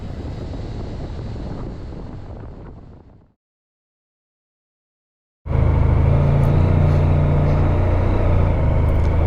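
Motorcycle ride through the Mendip Hills in Somerset, a steady engine drone with wind noise that fades out into a few seconds of silence and then returns louder.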